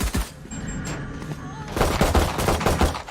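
Rapid bursts of gunfire crack out in a Valorant esports match, a sparse shot or two first, then a dense rattling volley of close shots in the second half.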